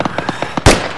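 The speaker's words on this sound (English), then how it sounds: "How was that grenade?" An airsoft grenade goes off with a loud, sharp burst near the end, after a rapid series of quieter popping shots from the game.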